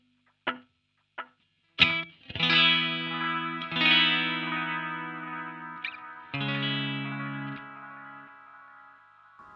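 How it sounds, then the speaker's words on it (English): A guitar played through the echo delay effect of an AMMOON POCKMON multi-effects pedal: a few plucked notes and chords whose repeats trail off, bright and ringing with distortion, layered repeats decaying after each strum. "This is the echo."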